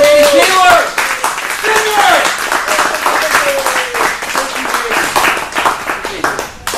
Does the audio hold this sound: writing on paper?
no